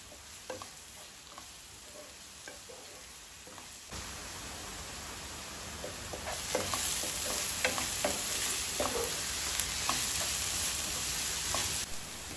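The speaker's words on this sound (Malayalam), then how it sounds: "അതിലേക്ക് അരിഞ്ഞു വെച്ച പച്ചമുളകും കൂടി ചേർത്ത് നല്ലപോലെ ഇളക്കാം" Chopped green chillies stirred in an oiled pan for chicken cutlet, with repeated near scraping strokes over a steady frying hiss that grows louder midway, with no one speaking.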